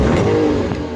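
A Ford Fiesta MK6 with an upgraded aftermarket exhaust revs loudly up close, a deep, throaty engine note that holds briefly before easing off.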